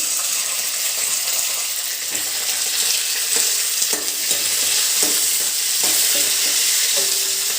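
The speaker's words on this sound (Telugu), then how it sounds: "ఇదిగో బాండీ పెట్టాను, ఇది కళాయి పెట్టిన తర్వాత ఇదిగో శనగపలుకులు వేసాను." Chana dal frying in oil in a kadai gives a steady bright sizzle throughout, with occasional scraping clicks and taps of a spoon stirring against the metal pan, and no speech.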